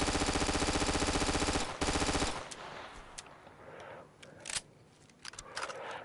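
Submachine gun in the video game Easy Red 2 firing a loud, fast continuous burst, a short pause, then another burst, followed by scattered distant shots and clicks.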